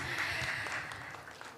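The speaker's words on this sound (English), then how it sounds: "give a round of applause" An audience at a conference applauds the organizer, a steady wash of many hands clapping at moderate distance that gradually fades toward the end, with no one speaking over it.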